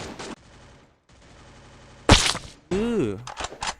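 A sharp loud gunshot burst in the mobile shooter Free Fire, followed by gun sounds and game effects, with a voice talking over the action.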